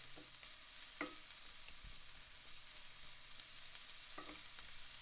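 Tortillas fry in a pan for chilaquiles with a soft, steady sizzle, broken by a few light scrapes and taps as they are nudged around, quiet and close.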